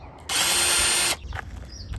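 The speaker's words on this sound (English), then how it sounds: "got the drill, super easy" A cordless power drill whirs loudly and steadily for about a second, then cuts off, leaving quiet handling noises, while removing a hood latch on a 2008 VW Jetta MK5.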